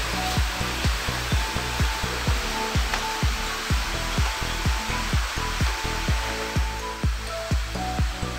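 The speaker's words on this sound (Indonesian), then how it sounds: "ada sungai di bawah, makanya ada suara air keras." A loud, steady roar of a river rushing below a resort in Ubud, Bali fills the scene, with a regular thumping pulse repeating underneath it throughout.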